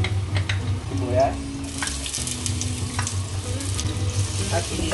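Garlic and onion sauté in a pan for lomi Batangas, a steady frying sizzle with scraping stir strokes and a low hum underneath, a voice speaking briefly over it.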